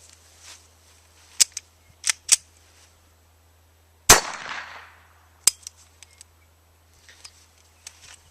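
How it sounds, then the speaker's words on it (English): A Ruger SR22 pistol fires with sharp, sparse reports; one loud close shot rings out with a tail, among several lighter cracks and small metallic clicks spread irregularly over otherwise quiet air. "let's fire some more."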